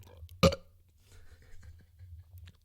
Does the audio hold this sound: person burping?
yes